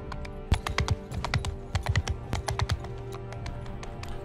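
Rapid clattering taps in uneven bursts of horse hooves in Bannerlord, with a steady low hum underneath.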